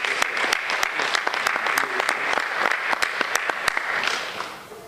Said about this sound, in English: Can we give our students big round of applause?